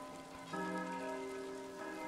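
Steady rain falling in the medieval monastery-building game Foundation, a soft even hiss alongside a sustained musical tone that enters partway through.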